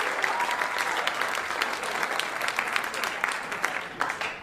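Audience applause fills a comedy club during a live stand-up set, a steady dense patter of clapping at moderate level that holds evenly throughout.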